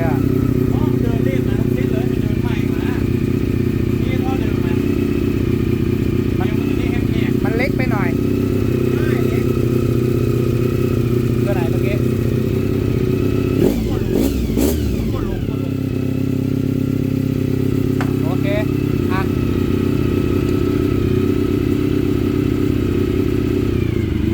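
A Honda CBR400RR NC29 motorcycle engine runs steadily throughout, with a brief rev or clatter midway, heard close up under talk.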